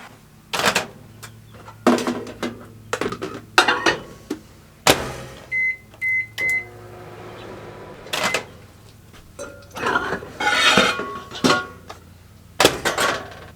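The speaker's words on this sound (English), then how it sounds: "I'm going to start out with some butter that I'm going to melt in the microwave" Microwave oven melting butter in a home kitchen, with three short electronic beeps in a quick row midway through, surrounded by louder clatter and knocks from cooking prep.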